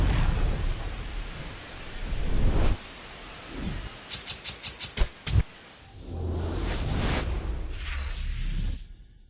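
Rain and rolling thunder at a rainy night baseball game at Fenway Park in MLB The Show 26, a loud steady downpour broken by several sharp crackling thunder strikes midway, then heavy rain resuming.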